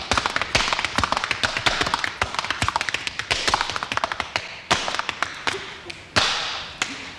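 Tap dancing feet beating out a fast rhythm of sharp, crisp taps and heavier stomps, close and loud, with a steady run of clicks and occasional accented thuds.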